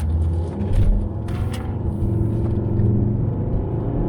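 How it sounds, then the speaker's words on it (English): A Volvo XC70 accelerating hard, a steady loud engine rumble and road roar building from inside the car, with no talk. "Like if you put your foot down, it goes."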